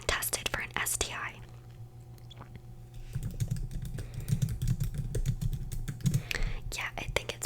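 Close, steady tapping on a computer keyboard in an ASMR setting, clicks coming in uneven bursts under soft whispered talk.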